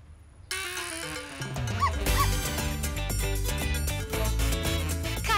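A cartoon dog barks and yips in short bursts over busy, loud music from a children's animated show, the yaps repeating at an uneven pace throughout.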